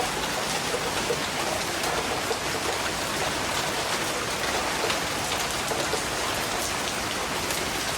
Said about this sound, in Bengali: এখন অনেক জোরে বৃষ্টি হচ্ছে